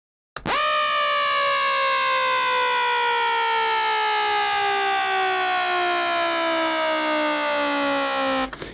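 Screaming bass synth patch built in NI Massive inside Ableton, a loud, bright, buzzy sustained tone gliding slowly downward in pitch for about eight seconds with no break, alone and siren-like.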